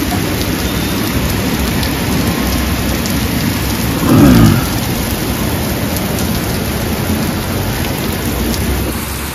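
Monsoon rain driven by wind pours steadily in Mumbai, a loud dense hiss of drops on surfaces throughout, with a brief low rumble rising in the middle.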